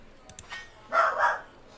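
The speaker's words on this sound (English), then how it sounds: "My dogs are barking." A few short dog barks ring out, moderately loud, in a brief burst amid light background sound during a Pillars of Eternity gaming session.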